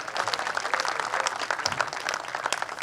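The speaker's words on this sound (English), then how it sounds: "Can I get a round of applause for the Premier, please?" A crowd at a Progressive Conservative campaign kickoff in Brampton East applauds Ontario Premier Doug Ford, a steady wash of clapping throughout with a faint, brief voice in the mix.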